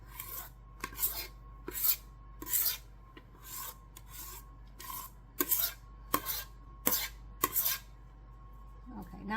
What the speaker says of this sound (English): Scrape it out. Kind of be even.